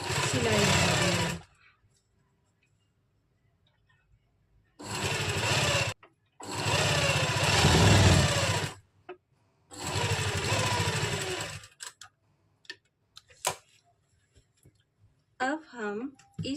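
A sewing machine stitches kameez lining fabric in several loud, close bursts of rapid whirring, separated by quiet pauses, with someone speaking between the runs.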